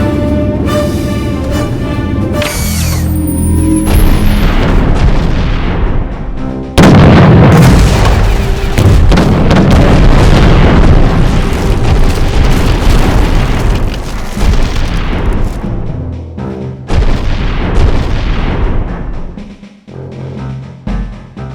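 Heavy cannon volleys boom throughout a ship battle against pirate vessels in the Treasure Planet video game, loud, dense and nearly continuous, with overlapping blasts and rumbling impacts.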